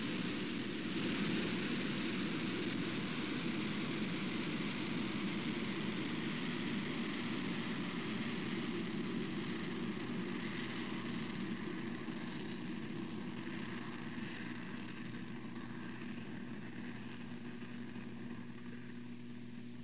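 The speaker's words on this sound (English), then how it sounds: "liftoff for the United Launch Alliance Atlas V rocket carrying the NROL-36 payload for the National Reconnaissance Office" A United Launch Alliance Atlas V rocket lifts off carrying the NROL-36 payload, a steady broadband roar that holds for twenty seconds and fades slowly.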